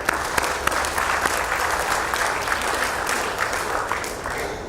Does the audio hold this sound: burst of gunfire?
no